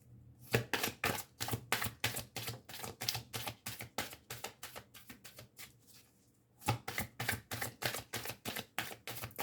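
Sharp, fast clicking bursts in quick succession, pausing briefly before resuming, like a deck of cards being riffled close by.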